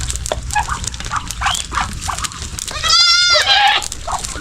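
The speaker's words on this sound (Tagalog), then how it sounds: "Yung mga kambing natin kumakain sila ng mais." Goats on a farm bleating loudly while eating corn, several calls in quick succession, with a prominent wavering bleat near the end over background munching and rustle.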